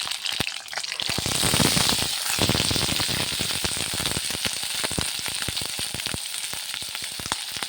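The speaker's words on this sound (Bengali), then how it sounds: "আগে মটরশুঁটি বেজে নিই" Green peas frying in a pan of hot oil, a steady loud sizzle with crackling pops that swells after the first second and keeps up without a break, with no voices over it.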